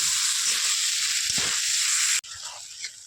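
Potatoes with turmeric being stirred in a frying pan for a Bengali vegetarian curry, giving a steady, close, continuous sizzle and hiss that drops abruptly and softens near the end, with no voices.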